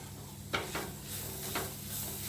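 Crushed garlic and ginger sizzle softly in a pan while a spoon stirs them, scraping in a few quick strokes over the steady frying hiss.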